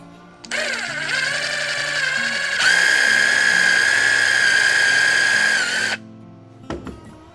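A power drill bores a small hole in the center of a part, whining steadily for about five seconds and rising in pitch partway through, then stopping, with a clatter afterward.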